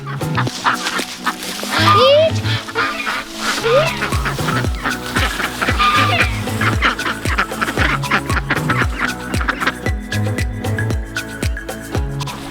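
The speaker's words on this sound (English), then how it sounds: "So as the chickens and ducks are coming out and Selah's encouraging them" A flock of ducks and chickens calls repeatedly nearby, overlapping quacks and honks with some higher bird chatter mixed in, busy and continuous.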